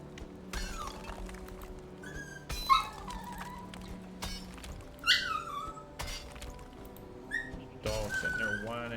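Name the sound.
dog whining in the video game Valheim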